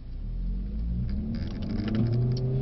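A Mercedes-Benz A45 S engine drones and builds through the gears while driving on the Brooklands track, a steady, fairly loud in-cabin roar with rising revs and no talk over it.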